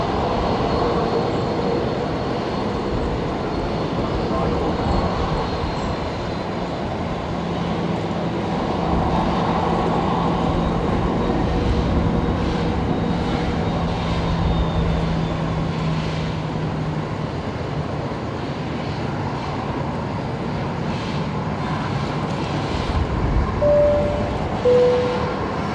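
A Velocity Boeing 737 jet taxiing at Brisbane Airport, a loud continuous engine rumble and whine that holds steady throughout, with no voices heard.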